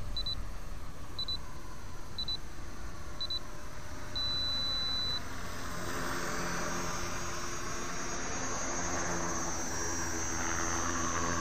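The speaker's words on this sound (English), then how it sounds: "there's my 6 minute timer" A 6-minute flight timer sounds four short, evenly spaced beeps and then one longer tone during an HK 450 RC helicopter flight, over a steady background whine of the flying model.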